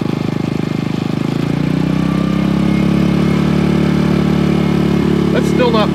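A new generator runs steadily at about 4,500 RPM, a loud, close, continuous engine drone that settles into an even hum, with a few faint clicks near the end.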